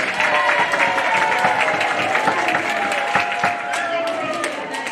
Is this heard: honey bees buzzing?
no